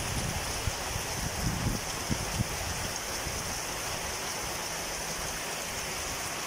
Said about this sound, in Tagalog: Manood muna kayo sa grabe ulan.